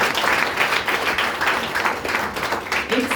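A meeting audience claps in a steady, full round of applause throughout, with a faint crowd murmur beneath.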